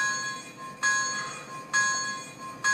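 An MTH HO-scale Big Boy No. 4005 model train bell clangs in steady repeated strokes, about three rings spaced evenly apart, each with a bright metallic tone that lingers briefly.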